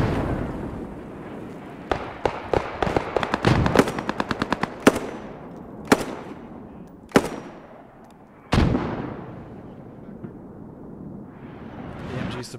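Machine gun fire in a World War II Operation Market Garden video game battle at Arnhem: rapid bursts of shots, then several loud single cracks with long echoing decays, close and sharp with no talk.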